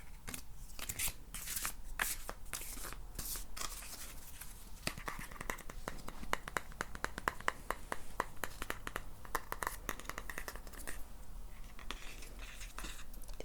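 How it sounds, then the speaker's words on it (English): Tarot cards are shuffled by hand in quick, irregular bursts of crisp riffling and slapping, close and quiet, with short pauses between runs. "This isn't how I typically shuffle, so I'm usually pretty awkward when I do it this way."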